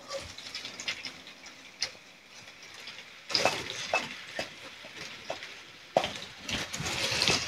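Garlic and onions sautéing in a hot pan, steady sizzling with bursts of louder frying and occasional sharp stirring clicks, no talk.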